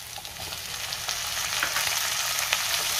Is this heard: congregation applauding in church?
no